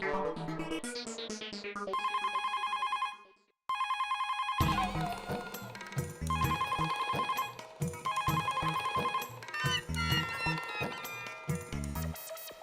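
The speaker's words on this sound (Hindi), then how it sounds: "ये दया फोन क्यों नहीं उठा रही है?" A telephone rings repeatedly in bright electronic tones, pausing briefly before resuming, with a melodic ringtone pattern over a busy background.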